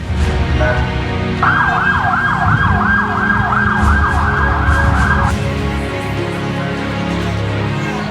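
An emergency ambulance siren wails loudly in a steady repeating sweep for about four seconds over constant road and traffic noise, then cuts off while the vehicle rumble carries on.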